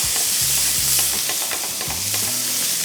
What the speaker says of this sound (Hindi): और इसको पहले थोड़ा सा फ्राई करेंगे।